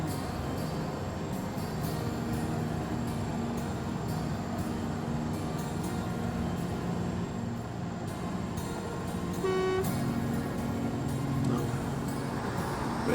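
Model train from the Rolling Line game running around an Earlestown Junction layout, a steady continuous rumble of wheels and motor with rail clatter, fairly close, steady throughout with a brief brighter tonal whistle or squeal partway through.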